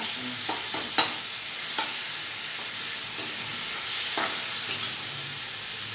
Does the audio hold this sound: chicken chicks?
no